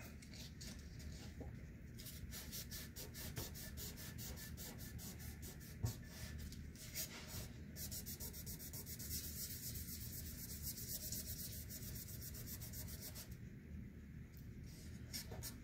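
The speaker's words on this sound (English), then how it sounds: "Now I've got some automotive sandpaper. Just cut off a little bit of a strip there. Let's give it a rub" Strip of automotive sandpaper rubbed on a thrifted item to remove Sharpie ink, a faint, close, steady scratching in quick back-and-forth strokes with brief pauses, no talking.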